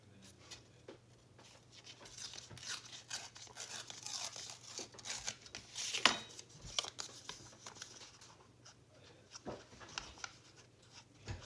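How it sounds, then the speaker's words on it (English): Paper page from a book being torn by hand for a collage cover, giving a quiet, papery rip with crinkling through the middle and soft rustles before and after, no voices. "Still need to tear just a bit more off."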